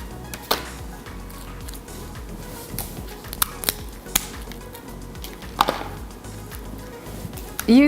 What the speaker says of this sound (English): you want to grab some kitchen shears to cut through the shells